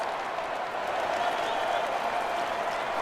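A home crowd roars and applauds steadily after a try in a Sea Eagles versus Warriors rugby league match, a dense, sustained stadium wash with faint commentary voices beneath.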